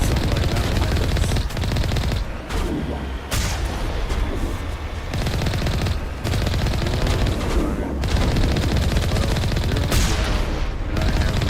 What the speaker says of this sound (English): And I have a machine gun.